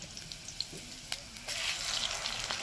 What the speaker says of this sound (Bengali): আলু সেদ্ধটাকে শুধু রাখলাম না এটাকে ভেজে নিচ্ছি